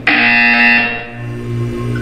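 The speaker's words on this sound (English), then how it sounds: "You will hear a buzzer." Loud harsh electronic buzzer in Portal 2, a single sustained blare that sounds abruptly and then fades into a lower droning tone, heard alone up close.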